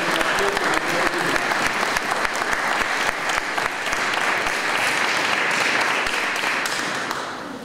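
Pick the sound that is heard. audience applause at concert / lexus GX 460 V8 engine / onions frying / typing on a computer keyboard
audience applause at concert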